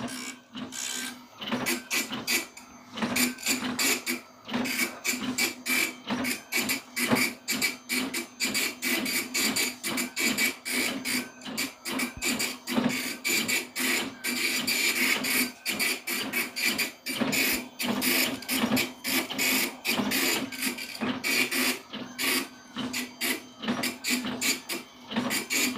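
An Epson PLQ-30 passbook dot-matrix printer prints out its current settings, a rapid close buzzing rasp in repeated short bursts with brief pauses, steady and fairly quiet throughout.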